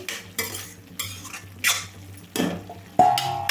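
Stirring a Tamil Nadu-style virali fish curry in a pot: several separate scraping, clinking strokes of a spoon against the metal, with quiet pauses between them and one sharper knock near the end.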